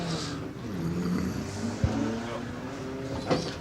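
VW Polo twin-charged 1.4 litre hillclimb car revving at a distance, a rising and falling engine note under a commentator's voice, with a couple of sharp knocks.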